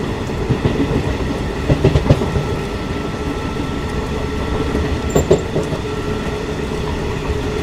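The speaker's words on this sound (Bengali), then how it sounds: "ট্রেন এসে পৌঁছালো খুর্দা রোড জংশন।" A passenger train rolls into Khurda Road junction in India, its loud rumble filling the space, with a clickety-clack of wheels over rail joints and a brief faint squeal, heard close from on board.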